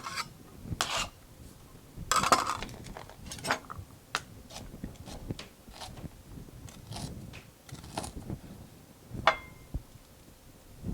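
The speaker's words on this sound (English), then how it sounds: "so I can just fine chop as opposed to coarse or rough chop" A knife finely chops Italian salad ingredients on a cutting board, giving irregular crisp taps and scraping strokes, sometimes clustered and sometimes spaced apart, at close range.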